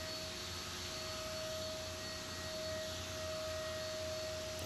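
A battery-powered paint sprayer runs with a steady, even motor whine and airy hiss, held at a constant pitch for the whole stretch with no pauses and no voices.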